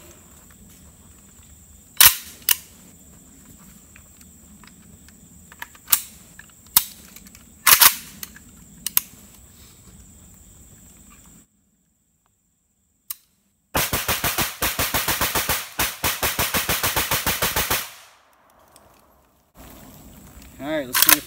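Semi-automatic shots from a PSA AK-P pistol-caliber AK-pattern rifle fitted with a muzzle device ring out as sharp single reports spaced over several seconds. A long rapid burst of fire follows after a brief silence.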